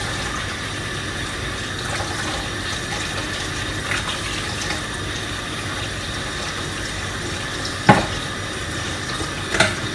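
Running tap water splashes steadily while a spoon is scrubbed clean of sauce residue, with a couple of brief metallic clinks near the end.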